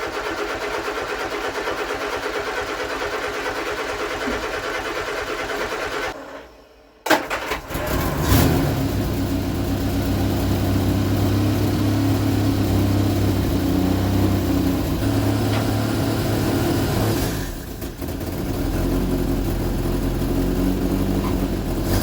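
A 1975 Vauxhall Viva HC engine, left unstarted for about two weeks, cranks briefly after a short silence and catches, then runs loud and close with a steady idle and mild rises in revs.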